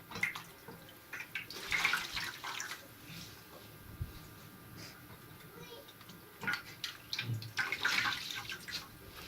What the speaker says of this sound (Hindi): मैंने ब्रेड को पानी में ऐसे डिप करके इसको निचोड़ के तब यूज़ किया है पोहे के लिए